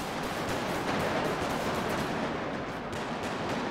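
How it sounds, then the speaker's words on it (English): Gunfire in a GTA RP roleplay game, a dense, loud continuous burst of rapid shots and crackling blasts that fills the whole few seconds with no voices. "Who's shooting at me, cuz?"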